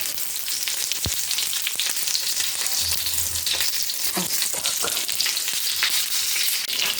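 Food sizzles steadily in hot oil in a cast-iron pan, a constant crackling hiss with occasional clinks and a brief spoken word.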